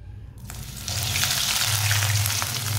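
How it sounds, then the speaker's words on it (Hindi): Bread and potato snack pieces frying in hot oil, a steady close sizzle that jumps louder just under a second in as the pieces go in, with a low stove or burner rumble underneath; no one talks. "ऑयल हमारा अच्छी तरह गर्म हो चुका है। अब स्नैक डाल लेंगे।"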